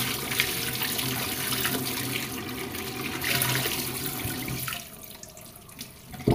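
A cabbage is rinsed under a running tap for a stuffed steamed vegetarian dish, with a steady, close hiss and splash of water that cuts off near the end, followed by a few small knocks.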